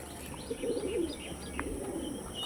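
Pigeons of a bred fancy variety coo in low, rolling bursts close by, with faint chirps and ambient noise around them and no talking.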